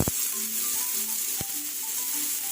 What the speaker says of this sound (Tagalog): So habang niluluto natin yung kamatis guys